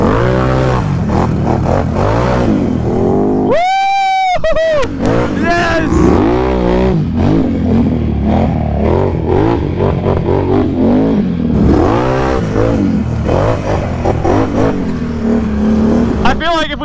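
Can-Am Renegade ATV engine revving through wet Florida swamp trails, a loud continuous motor drone with rising and falling revs, mixed with voices and an excited shout.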